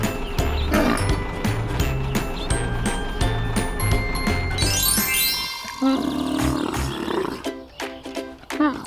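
A camel vocalizes in long, loud, harsh groaning roars with layered, gurgling tones that rise and shift over several seconds, then break into choppier grunting bursts, with faint jingling in the background.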